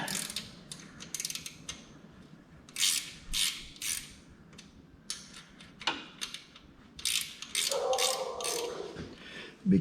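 Wrench loosening bolts on a blueprint engine during accessory installation: close, irregular metallic ratcheting clicks and scrapes in short bursts, with a brief creak near the end.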